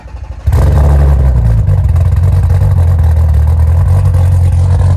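A 1200 hp Volkswagen Golf 4 engine fires up with a sudden loud start and settles into a heavy, rumbling idle that stays close and loud, with no talk.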